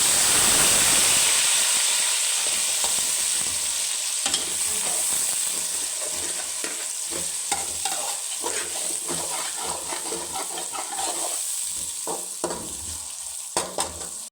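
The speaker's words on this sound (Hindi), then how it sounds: "जिस घी में हमने फ्राई की है मछली, उसी में हम ये डालेंगे प्याज का दाना" Nigella seeds sizzle in hot ghee left from frying fish: a steady frying sizzle with a bright hiss, continuous throughout, with occasional stirring clinks and scrapes close by.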